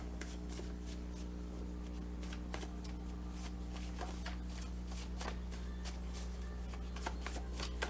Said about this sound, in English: this one I can only do a hand-to-hand shuffle